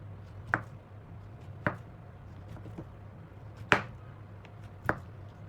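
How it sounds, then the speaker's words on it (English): A knife slices through fresh mushrooms on a cutting board with four crisp, separate cuts spaced about a second apart, close and fairly quiet over a low steady background hum. "slice the mushrooms into thin slices"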